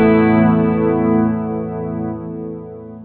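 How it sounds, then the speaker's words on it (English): A Free The Tone Future Factory delay pedal set for a thick, dark tone with the high end removed and mids and bass boosted; a sustained electric guitar chord and its warm, muffled repeats fade slowly, loud and close, with no talking. "So it's a really, really thick sounding delay. No high end, lots of mids,"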